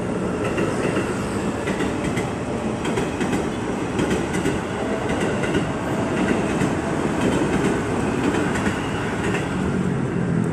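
A commuter train bound for Bekasi station passing close by, a loud steady rumble of rail cars with rhythmic wheel clatter sustained throughout, no voices.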